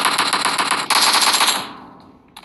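Sustained automatic gunfire in a PUBG room match, loud and close, rattling continuously for over a second before tapering off, then a brief renewed burst at the end.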